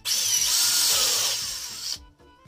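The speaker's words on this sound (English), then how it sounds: "so I'm gonna drill this hole out" A power drill bores a hole in a small model pistol part for a Hellboy figure, a loud steady high whine lasting about two seconds before cutting off.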